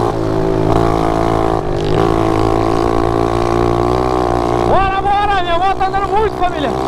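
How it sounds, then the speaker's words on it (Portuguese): A motorcycle engine drones steadily and loud throughout on a dirt trail, rising in pitch near the end as it revs, with a voice talking over it. "Minha moto tá andando muito."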